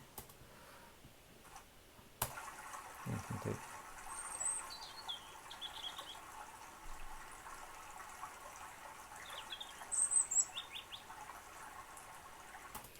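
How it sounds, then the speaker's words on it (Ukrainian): Birdsong sound effect from a free sound-effects app: faint, high chirps and short trills come in two scattered clusters over a quiet, hissy background, with a soft click near the start. "щоб більше було пташок"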